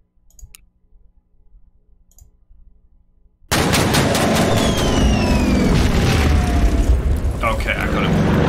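Anti-aircraft gun firing in the strategy game Order of Battle, set in a Pacific naval campaign: after quiet low rumble, a loud sudden burst of rapid automatic fire and explosions that stays dense and continuous to the end.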